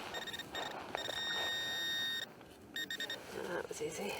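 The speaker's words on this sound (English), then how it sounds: "this incredibly useful handheld pinpointer is designed specifically to speed the recovery of your" Tonal electronic beeps from a Garrett Pro Pointer AT handheld metal detecting pinpointer: a sustained tone, then several short pulses, partly under a narrating voice and background noise.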